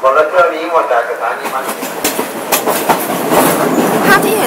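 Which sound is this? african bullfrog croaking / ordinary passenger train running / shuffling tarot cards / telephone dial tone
ordinary passenger train running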